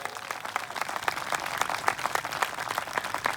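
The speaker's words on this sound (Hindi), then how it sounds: "अरे उस यीशु के लिए ताली बजाए." A church congregation applauds in a steady, moderately distant patter of many hands clapping, with faint murmuring beneath.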